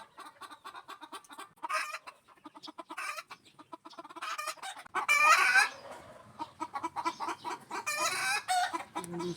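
A hen about to lay an egg clucks repeatedly in short bursts, rising into a louder agitated cackle midway, close by with no talking.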